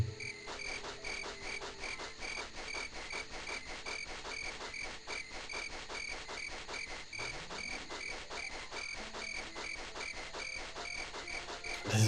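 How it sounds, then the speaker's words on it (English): Crickets chirp steadily through a night scene in the video game The Elder Scrolls II: Daggerfall, a dense, continuous trilling bed of evenly pulsing calls with a faint rising tone partway through, with no voices. "There's crickets."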